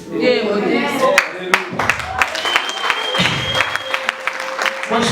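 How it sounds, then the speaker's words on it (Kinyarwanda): A church congregation bursts into scattered applause, sharp claps rising and thinning over several seconds, with voices and some tonal sounds mixed in. "Nimubwira amashyi nyikirize."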